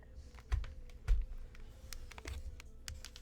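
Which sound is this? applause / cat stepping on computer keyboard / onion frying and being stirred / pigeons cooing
cat stepping on computer keyboard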